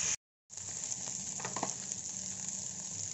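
Food fries in a pan with a steady, faint sizzle and a few light stirring clicks partway through, close up and without talk.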